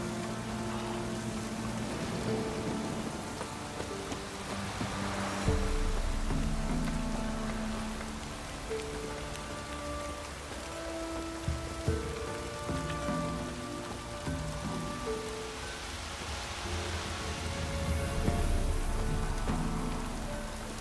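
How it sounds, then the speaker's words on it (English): Steady rain falls and patters across surfaces throughout in The Witcher 3 video game, a dense continuous hiss with a soft low rumble underneath. "Those crows have brought us rain."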